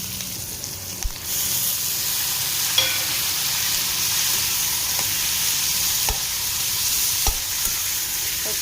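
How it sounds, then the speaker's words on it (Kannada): Capsicum and tomato frying in a pan for avalakki oggarane, a loud continuous sizzle close up, with a few brief stirring clinks against the pan. "ಇಲ್ಲಿ ದಪ್ಪ ಮೆಣಸಿನ್ಕಾಯಿ ಸ್ವಲ್ಪ ಆಗಿದೆ, ಇದ್ರ ಜೊತೆಗೆ ಟೊಮೆಟೊ ಹಾಕ್ಕೊಳ್ಳೋಣ."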